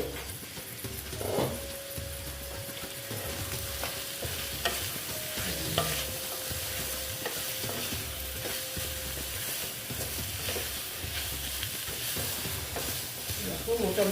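Pointed gourd with sesame sautéing in a pan, a dense continuous sizzle with rhythmic spatula scraping and stirring throughout, close and steady.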